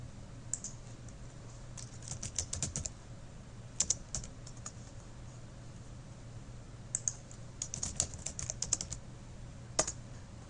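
Computer keyboard keys clatter in short irregular bursts of typing separated by pauses, close and fairly quiet, with no talking.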